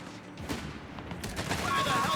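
Machine gun fire from a .30 cal heavy machine gun team in Company of Heroes 3, a battle between Wehrmacht and US Forces, crackling in dense bursts that build and grow louder over a busy battlefield din.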